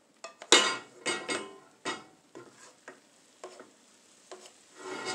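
Deer meat juice simmers and sizzles in a pan while a utensil stirs and scrapes it. Clinks and scrapes come in irregular bursts over a soft bubbling.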